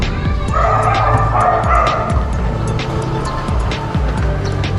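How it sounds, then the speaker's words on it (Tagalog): Several dogs bark and yip in rapid, overlapping bursts, loud and close, with a few whimpers mixed into the steady commotion. "Oh, kakagulo aso."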